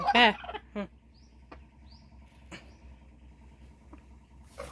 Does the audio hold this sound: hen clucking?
yes